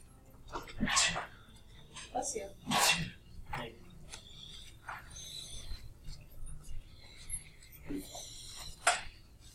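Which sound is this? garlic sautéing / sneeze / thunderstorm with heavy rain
sneeze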